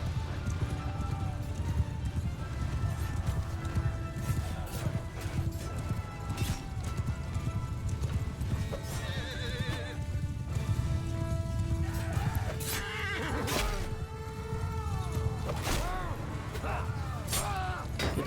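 Cavalry horses galloping in the Mount & Blade II Bannerlord video game, a dense, continuous clatter of many hooves with whinnies rising over it. Game battle noise runs underneath, with a voice talking over part of it.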